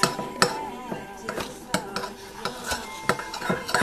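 Orange butter for turkey stuffing being mixed in a bowl gives a run of irregular clinks and scrapes of a utensil against the dish, moderately close and with no talking.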